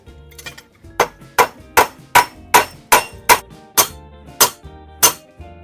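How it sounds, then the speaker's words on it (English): Rivets being hammered on a 1955-1970 Chevy window regulator assembly: about a dozen sharp metallic strikes in a fairly even rhythm, close and loud, with no talking. "make sure that you're riveting this on here first"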